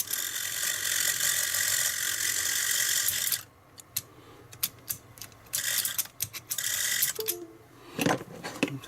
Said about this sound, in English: The noise off that motor is a bit much.